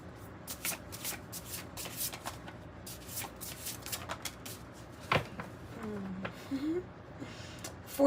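Tarot and oracle cards are shuffled by hand in a rapid riffling patter, with a few brief snaps and a faint voice humming or murmuring underneath.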